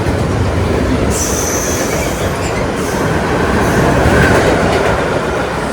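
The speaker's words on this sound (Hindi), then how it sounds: "माल बरदार ट्रेन है भाई" A freight train rolls past close by, with a loud, continuous rumble of wheels on rails and bursts of high metallic wheel squeal.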